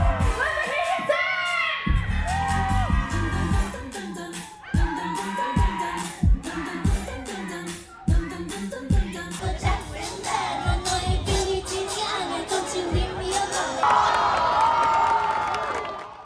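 A crowd cheers and whoops at the Chorus Got Talent show, an outdoor talent competition, with loud shouts and screams rising over pounding dance music, bursts of excitement recurring throughout.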